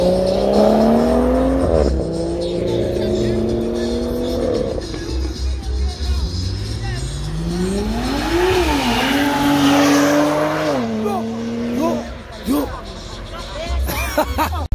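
Turbocharged van racing on a street at a night boost event in Johannesburg, engine revving and climbing through gears loudly and close, with tire noise and a crowd chattering throughout.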